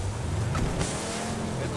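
A car braking in a video game gives a short tire squeal over a steady engine rumble, with players talking over the sound.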